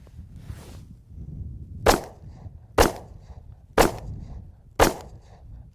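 Auto-loading home defense gun firing four evenly spaced sharp shots with a fifth starting at the end, heard at moderate distance over a low background rumble.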